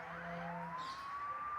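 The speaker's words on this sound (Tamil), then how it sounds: "ஏதோ பாருங்க, இந்த ஆம்புலன்ஸ் வேறு" Ambulance siren in the Bus Simulator Indonesia (BUSSID) driving game, a steady rising wail heard alone over low engine hum.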